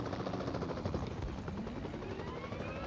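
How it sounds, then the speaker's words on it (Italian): A helicopter in PUBG Mobile thrums overhead with a steady, close rotor chop that holds at an even loudness throughout. "Elicottero! Elicottero!"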